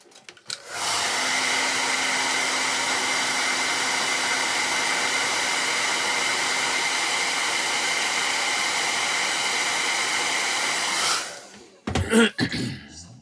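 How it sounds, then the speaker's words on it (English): Hair dryer blowing on hair at a salon, a loud steady whoosh running for about ten seconds before switching off, followed by brief handling noises. "I'm going to dry that."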